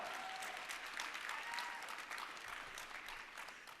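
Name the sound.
audience applause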